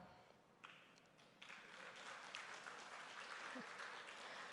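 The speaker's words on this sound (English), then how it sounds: "First time I'm hearing people cheering for Pakistan." Audience cheering and applauding at a speech event in Chennai, broad sustained crowd noise that swells after a few onsets and holds steady, moderately loud and diffuse.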